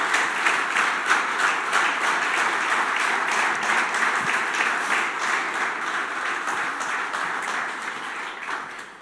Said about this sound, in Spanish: ¿Por qué no le das tu mejor aplauso al Señor en esta mañana?